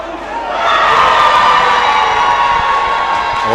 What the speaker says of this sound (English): it has aroused a huge applause of the supporters and also the teams, the players on the bench